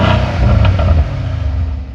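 Mercedes-AMG C63S Coupe, a 2020 model, revving its engine heard from outside the car at some distance, a short loud low rumble that eases off after about a second.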